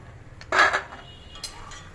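A metal ladle lifting fried seedai out of hot oil to drain: one close, bright clank and scrape, followed by a softer tap against the pan over a faint background hiss.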